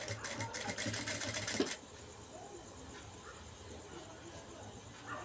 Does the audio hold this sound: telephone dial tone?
no